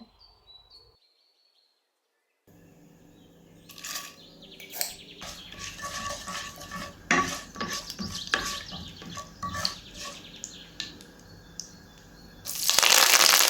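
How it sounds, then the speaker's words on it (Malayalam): Fennel and fenugreek seeds are stirred in hot coconut oil left from frying fish for a fish curry: after a brief quiet start, crackling sizzle and clicking stirring fill the pan, growing to a loud hiss at the end. "ഇനി ഫ്രൈ ചെയ്ത ആ വെളിച്ചെണ്ണയിലേക്ക് തന്നെ കുറച്ച് പെരിഞ്ചീരകവും കുറച്ച് ഉലുവയിട്ട് ഒന്ന് ജസ്റ്റ് ഒന്ന് ഇളക്കി കൊടുക്കണേ"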